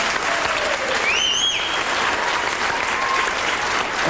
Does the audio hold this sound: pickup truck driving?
no